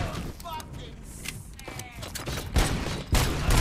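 Gunfire in RoboCop: Rogue City, a run of loud bursts and heavy shots close by, with a voice talking over the action.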